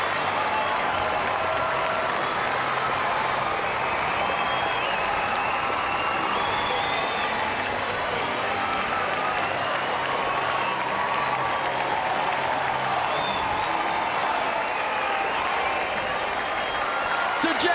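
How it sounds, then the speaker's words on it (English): A stadium crowd at a hockey Champions Trophy final cheers and applauds a victory, a dense sustained roar of clapping and shouting that stays loud and even throughout, with commentary heard over it. "Crowd explodes."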